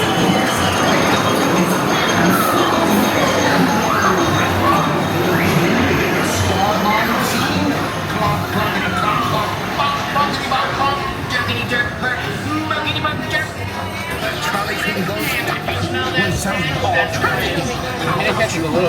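The High in the Sky Seuss Trolley Train ride at Islands of Adventure rolls along its elevated track with loud rumbling wheels, clacks and squeals, while riders talk and a recorded narration plays over the ride.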